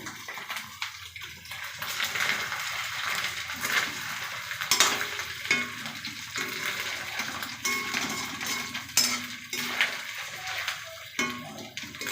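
Fish roe sizzles in a hot pan while being stirred, with a steady frying hiss broken by scraping strokes and occasional clicks of the utensil against the pan, close and continuous.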